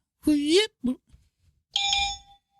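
A bell sound effect rings out on a podcast: a bright, sustained electronic ding that hangs and fades, following brief close-up talk.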